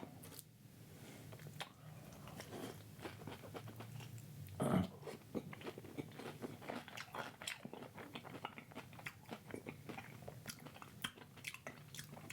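Soft, wet chewing of banana at a vegan breakfast-for-lunch mukbang, close to the mic, with steady mastication and a few brief louder bites or smacks scattered through a quiet room.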